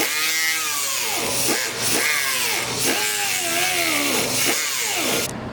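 A rotary power tool with sandpaper grinds at the intake port of a Cobalt SS LSJ cylinder head, whining in repeated rising and falling passes, loud and close, without speech.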